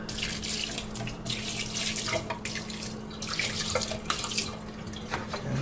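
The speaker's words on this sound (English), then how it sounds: "I'm just gonna do this kind of the lazy way and pour it on top." Distilled water poured onto a Macintosh Classic logic board makes a continuous splashing trickle, close and steady for several seconds with slight surges.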